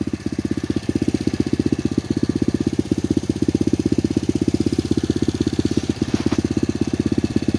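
An SSR 125cc pit bike runs at idle: a close, loud, even single-cylinder putter with a fast regular beat that holds steady throughout.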